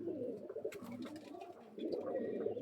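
Young tippler pigeon chicks kept at home give soft, low cooing murmurs, faint and close, in two stretches with a short quieter gap between them.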